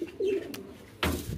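Pigeons cooing at a market: a soft, low coo comes first, then a brief flutter or click and a louder second call a moment later, fairly close and with no talk.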